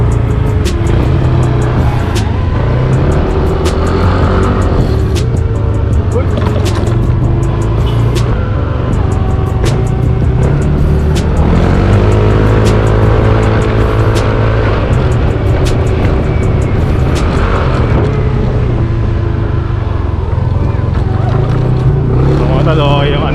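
A Yamaha Nmax 155 scooter being test ridden, its engine a loud, steady drone that rises and falls in pitch as it revs, close and continuous, with faint talk mixed in.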